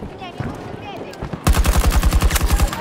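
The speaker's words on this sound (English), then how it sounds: "Somebody shooting at her." Automatic gunfire from a Battlefield 2042 match erupts after a quieter stretch of ambient battle noise, a rapid, loud, evenly spaced burst that continues to the end.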